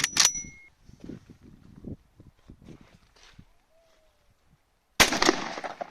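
A shotgun test shot fired with a 32 gram number 6 shell at 36.5 metres: a sharp, loud blast at the very end, preceded by a faint opening crack and soft clattering handling noises in between, with no talking.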